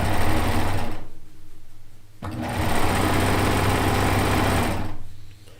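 A sewing machine stitching quilt seams runs loud and steady in two long bursts of rapid, buzzing needle strokes, separated by a brief pause, with no talking.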